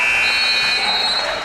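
A basketball game buzzer sounds at halftime of a girls' high school game, a loud steady electronic tone held over crowd noise and an excited commentator's voice.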